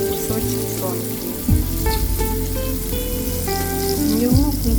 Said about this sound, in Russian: Пожарим буквально по 2-3 минуты с двух сторон.